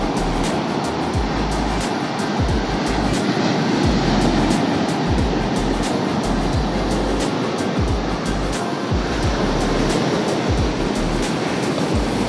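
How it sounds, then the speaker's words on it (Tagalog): Ocean waves wash and rumble steadily on Dinahican Beach in Infanta, Quezon, Philippines, a continuous broad roar with wind buffeting, no voices. "isang alon."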